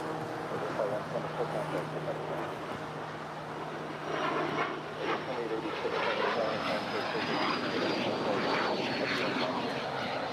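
An American Airlines heavy jet takes off from runway 25 right at LAX, giving a steady, loud engine roar with a rising whine that builds partway through, while a voice talks over it.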